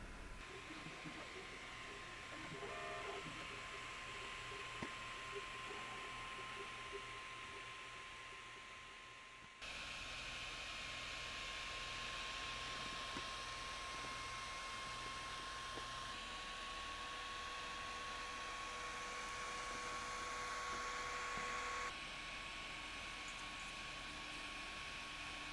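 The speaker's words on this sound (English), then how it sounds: "this 3D printer is set up and printing great" An Ender 3 3D printer runs a print job with a steady broadband whir of fans under long sustained stepper-motor tones that shift pitch now and then, loud and continuous throughout with no talking.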